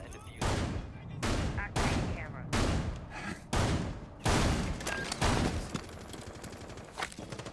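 Gunfire from Frost's gun in Rainbow Six Siege during a competitive match: about seven loud, close bursts of shots at a moderate, even pace, each ringing out briefly before the next.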